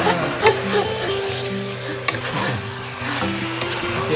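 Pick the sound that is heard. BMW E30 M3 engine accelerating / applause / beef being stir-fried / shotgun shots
beef being stir-fried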